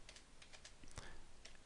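Keystrokes on a computer keyboard while editing text in vim, a handful of quick, light taps spread unevenly across a short stretch, faint and close against a low background hiss.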